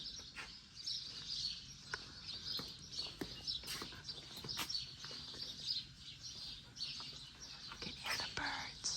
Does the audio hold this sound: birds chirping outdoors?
yes